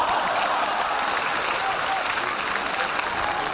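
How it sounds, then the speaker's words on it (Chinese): Audience applause at a comedy sketch stage performance, steady, dense clapping from a full crowd, continuous and fairly loud from start to finish with no pauses. "这大姐姐还鼓掌呢"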